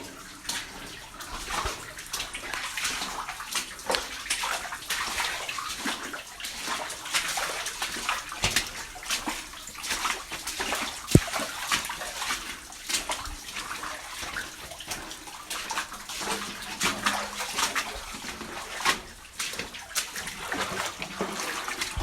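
Warm water runs steadily in a small flow at a copper mine camp, a continuous close hiss and splash with no talk over it.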